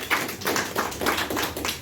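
A small group in a classroom discussion clapping: a brief, light patter of hand claps in a steady, quick rhythm, fairly soft and close, with no voices over it.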